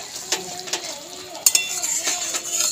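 A spoon stirs pointed gourd malai curry with whole green chillies in a pan over a low flame, making sporadic scraping clinks against the metal over a soft background sizzle.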